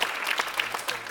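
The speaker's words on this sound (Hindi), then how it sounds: "जी, एक बार जोरदार तालियां।" Loud applause breaks out at a welcome ceremony for an international Hindi competition held by a Hindi development institute in New Delhi: a brisk, crowded burst of clapping with irregular sharp peaks throughout the short stretch.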